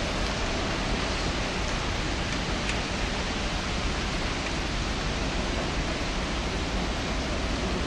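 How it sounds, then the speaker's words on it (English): Heavy rain pours down at Lancaster railway station: a dense, steady, even hiss of falling water with no breaks, close and loud for the whole stretch, with no talking. "it started to rain heavily"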